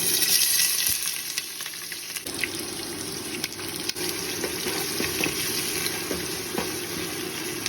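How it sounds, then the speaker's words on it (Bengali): Chopped onions fry lightly in a pan for mutton curry, giving a steady close sizzling hiss with faint stirring scrapes and no voices. "আমি জাস্ট একটু ব্রাউন কালার করে নেব, বেশি ব্রাউন না, জাস্ট হালকা ভেজে নেব"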